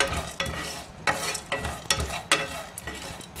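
Cloves, cardamom, cinnamon, chilies, cashews and poppy seeds dry roasting in a pan, a soft dry sizzle broken by repeated scraping stirs of a spoon at a steady rhythm, close and moderately loud.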